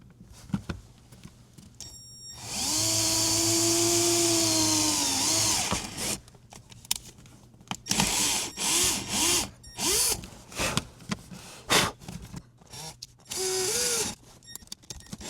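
A power drill with a smaller bit runs in a long steady whir into a Toyota Tundra truck, then in short stop-start bursts as it bites into material, with varying pitch under load.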